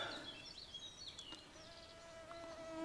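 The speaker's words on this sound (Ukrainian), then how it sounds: "Відразу комарів напало, заніс комарів." Faint, high whining buzz of mosquitoes wavers in pitch over a quiet outdoor background among bushes by the Desna River.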